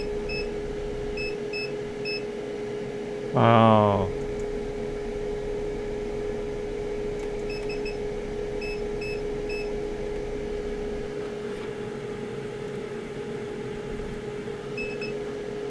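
A multimeter sounds a couple of short, faint beeps in a quiet room with a steady hum, and a brief rising squeal rings out near the start, followed by one spoken word.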